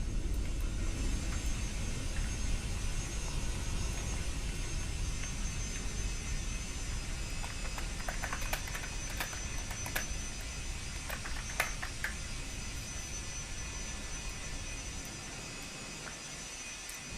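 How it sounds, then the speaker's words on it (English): A departing airliner in a video game gives a steady, broad engine roar and rumble that runs throughout, easing slightly toward the end, with no talking. "And the last plane to depart."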